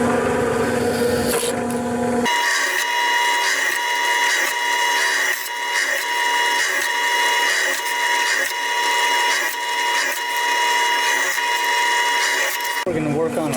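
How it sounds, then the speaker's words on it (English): A 9/64 inch drill bit grinds through material for the holes of a model SR-71 turboramjet engine, a steady high whirring rasp up close that runs for a long stretch and cuts off briefly at the start and end. "We're going to use a 9/64 drill bit to do that."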